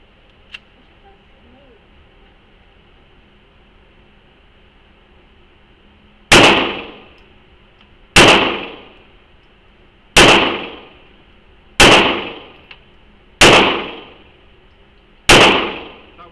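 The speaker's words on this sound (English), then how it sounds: "Alright, load it and shoot it." Six sharp handgun shots at an indoor shooting range, spaced about two seconds apart, each a loud crack with a ringing decay, over a steady hum with no talking.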